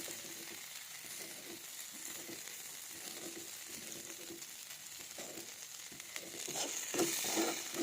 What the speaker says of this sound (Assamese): অলপ ভালদৰে ভাজি ল'ব লাগিব, তেতিয়াহে মই ডিম দিব পাৰিম।